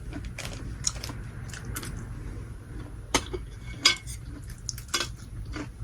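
Someone eating garlic with cutlery during a chicken-feet and pakbet meal, with scattered clinks of utensils on a plate and soft chewing and crunching, close and fairly quiet, no talking.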